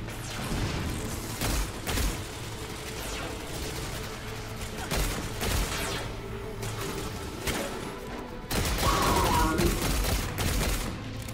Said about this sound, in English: Let's try using this pistol, whatever it does.